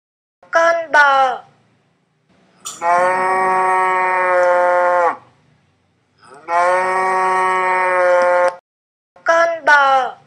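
Two long, loud cow moos, each lasting a couple of seconds with a gap between them, framed by short bursts of a child's speech at the start and end.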